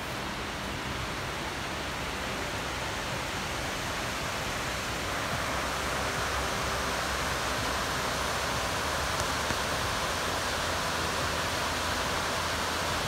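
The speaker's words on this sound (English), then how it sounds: "The waterfall seems pretty good today." A waterfall on the Swamp Rabbit Trail in Greenville, South Carolina, roars as a steady, dense rush of falling water, unbroken and fairly loud from start to finish with no other sounds standing out.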